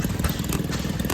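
A Maytag Model 92 antique engine fitted with a muffler runs steadily at an antique engine show, giving a close, continuous low chugging with an even pulsing rhythm and no talk.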